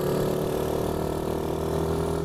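An ATV with a racing exhaust drones steadily in low gear, a continuous close engine hum with a constant pitch and no pauses.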